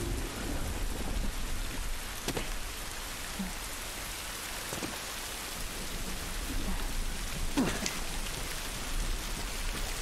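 Steady rain in The Last of Us Remastered, a dense close hiss of falling water with a few sharp splashes or knocks, heard alone with no talking.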